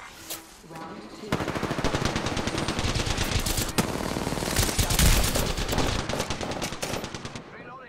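Rapid machine-gun fire in a first-person shooter video game rattles in dense, loud bursts that continue almost without pause, with occasional voices underneath.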